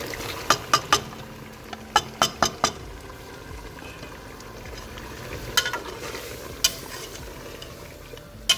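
Chopped tomatoes and green chillies frying with spices in a pan on high flame, with sharp clicks and scrapes of stirring coming in bursts over a steady low sizzle.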